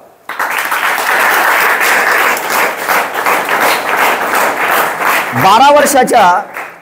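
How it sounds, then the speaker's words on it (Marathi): A class of students at a school maths workshop breaks into loud, sustained applause lasting several seconds before a voice briefly cuts in near the end. "सर्वांनी स्वतःसाठी जोरदार टाळ्या वाजवा"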